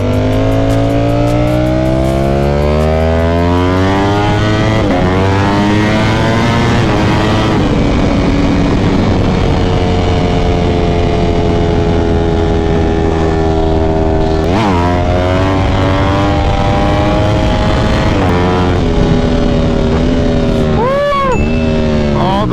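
A Ducati Panigale V4 SP2 with a Stage 2 ECU flash runs at full power, its engine screaming loud and close through rising gear pulls, sharp shifts and a final burst of revs.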